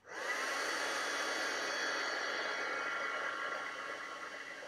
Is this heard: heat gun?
yes